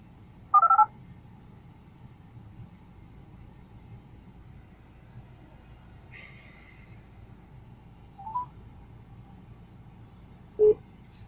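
A car's Bluetooth hands-free system places a phone call, with a few short electronic dialing tones spaced several seconds apart over a quiet, low in-cabin hum.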